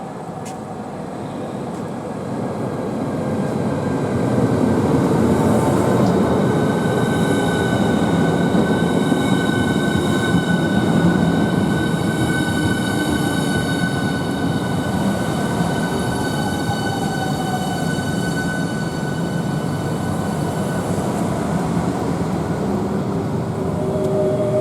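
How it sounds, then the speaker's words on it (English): A Class 395 Javelin high-speed train passes through St Pancras, a loud, sustained rumble with metallic wheel and rail tones that swells within a few seconds and holds steady throughout, with no talking. "The class of these locomotives are 395s"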